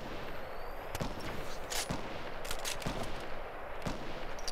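Faint, distant sniper rifle shots in the Fortnite video game crack out as several separate sharp reports over quiet background ambience.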